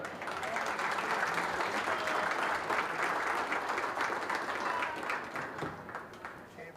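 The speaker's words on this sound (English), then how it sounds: "Let's give them a round of applause" A crowd at a junior fair goat show claps steadily after a class is judged, a dense, even wash of many hands that holds for several seconds and then tapers off near the end.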